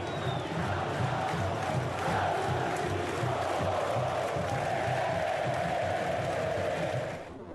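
Santos football supporters chant and cheer in a stadium, a loud, steady crowd roar with rhythmic singing that carries on evenly before cutting off near the end.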